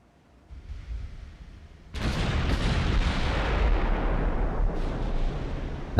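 Naval gunfire in the Ultimate Admiral: Dreadnoughts game: a faint rumble gives way to a sudden heavy boom, followed by sustained rolling thunder of artillery salvos with a sharp burst near the end.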